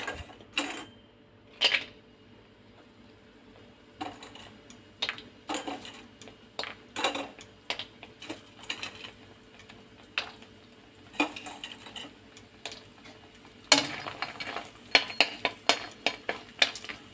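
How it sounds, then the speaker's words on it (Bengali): Bori lentil dumplings frying in oil in a wok: scattered ladle scrapes and metallic clinks against the pan at irregular intervals, some bunched in quick bursts, over a faint, low frying hiss. "এই যে আপনি এবার বড়ি ভাজবো।"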